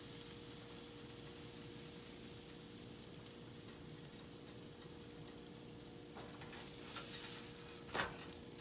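Butter sizzling steadily in a pan while French toast fries, a soft even crackle throughout with a brief louder clatter near the end.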